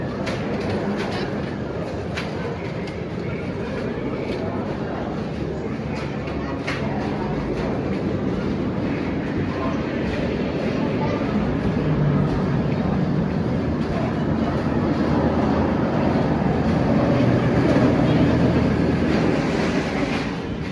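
The Great Bear roller coaster at Hersheypark roars along its track with a loud, sustained rumble and rattling clatter that builds slightly toward the end, with riders' voices mixed in.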